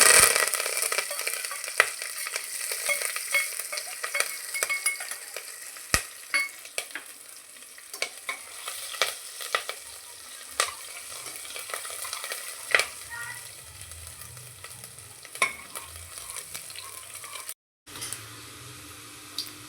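Cumin and mustard seeds splutter and sizzle in hot oil in a pan, giving a steady frying hiss dotted with sharp pops and crackles, with occasional stirring clinks.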